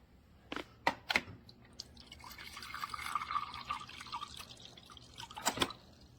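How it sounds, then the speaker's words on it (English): Water runs from the dispenser of a Samsung French door refrigerator freshly fitted with a new filter, beginning with a few sharp clicks and drips, then a soft, steady trickle filling a glass, ending with more clicks. "And now let's try it."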